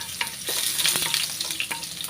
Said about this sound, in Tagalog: Ito, magigisa na ako ng bawang.